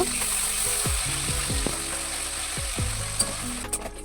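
Continuous crackling sizzle of fish frying in hot oil, with a few light metallic clinks from a utensil against the pan.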